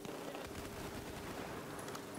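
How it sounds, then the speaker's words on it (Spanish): Dense, continuous automatic gunfire in a Battlefield 4 multiplayer battle, rapid overlapping bursts of rifles and machine guns filling the mix at a moderate distance, no speech. "Estoy oyendo mucho disparo por aquí."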